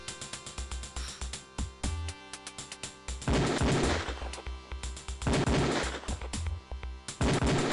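Beretta pistol shots ring out on a firing range in the game Police Quest 4, a rapid, steady string of loud, sharp cracks with brief gaps between strings and heavier clustered bursts partway through.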